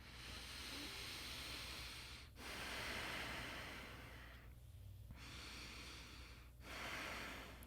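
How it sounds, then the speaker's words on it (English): During a yoga side bend, slow deep breaths come close and loud as long airy inhales and exhales, about three cycles with short pauses between them. "2 more deep breaths."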